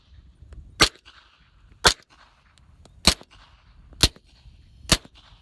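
Five suppressed 9mm pistol shots through a Rugged Obsidian suppressor on a Glock, evenly spaced about a second apart, each a sharp, loud crack that fades quickly over a quiet background.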